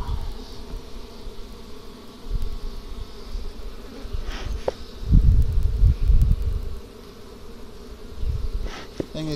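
Honeybees buzzing around an open hive with bees filling all three boxes during a summer hive inspection, a dense continuous drone with louder passes as bees fly near, plus brief rustling and handling noises.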